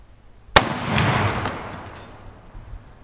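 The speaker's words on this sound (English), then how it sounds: "Now y'all can see the gun actually fire." Single loud rifle shot from an old military rifle, a 1942 Turkish 8mm Mauser or a Russian M44 Mosin-Nagant carbine in 7.62x54R, fired at a brick, a sharp close crack followed by a rolling outdoor echo that fades over a couple of seconds.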